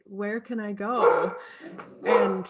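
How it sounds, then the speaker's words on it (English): Dogs barking and yipping in the background of a home, the short barks mixed in with and partly masked by close, continuous speech. "please excuse the dogs in the background"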